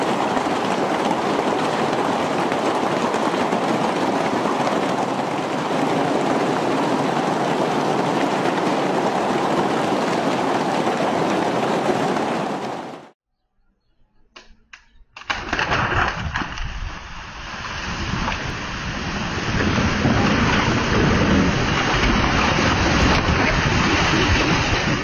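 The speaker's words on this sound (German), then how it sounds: "Es hagelt so heftig, dass das Wasser zu brodeln scheint." Heavy hail pounds into outdoor pool water, making a dense, loud, roaring hiss that cuts out briefly and then resumes just as strongly.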